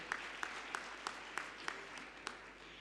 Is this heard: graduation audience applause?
yes